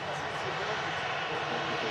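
Air Transat Airbus A321neo on final approach at Manchester Airport, a broad steady jet roar at moderate distance, continuous and unbroken.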